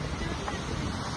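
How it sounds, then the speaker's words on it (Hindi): Strong sea waves breaking on the windy Somnath coast in Gujarat, a loud, dense roar of surf mixed with heavy wind buffeting the microphone. "देखिए लहरें देखिए, बहुत ज्यादा तेज लहरें हैं, बहुत ज्यादा।"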